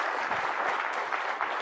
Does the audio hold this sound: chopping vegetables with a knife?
no